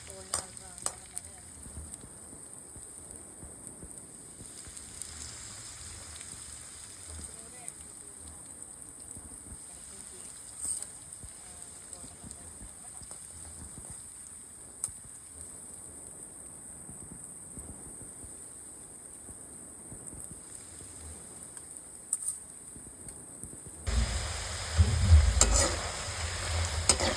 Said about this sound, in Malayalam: എണ്ണ വേണം, ഞാൻ കുറച്ച് വറുത്താണ്.